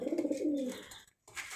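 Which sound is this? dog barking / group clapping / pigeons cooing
pigeons cooing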